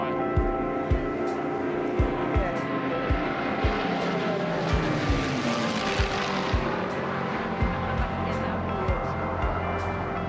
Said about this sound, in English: I'll let everybody listen out to the lovely sound of the Hurricane and Spitfire.